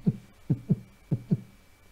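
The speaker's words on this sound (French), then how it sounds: "Vous entendez les battements de cœur là?" Heartbeat sound effect from the video game Ristar, a series of soft, low thumps in uneven pairs, alone and fairly quiet against a faint steady tone.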